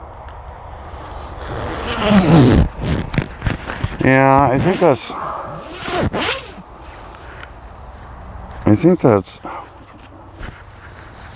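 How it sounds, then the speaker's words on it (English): The zipper of a fleece heated jacket is pulled up and down a few times, a rapid ratcheting rasp heard close, with a person talking around it. "Good action on the zipper though,"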